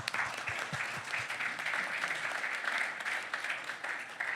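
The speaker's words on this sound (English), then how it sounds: "and give them a round of applause." An audience at a New York Climate Week 2025 panel event applauds, a dense steady clapping from many hands throughout, fairly close and even in loudness.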